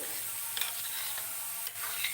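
A tempering of urad dal, mustard seeds and cumin seeds fries quietly in a pan, giving a soft, continuous sizzle broken by a few brief crackles and stirring scrapes.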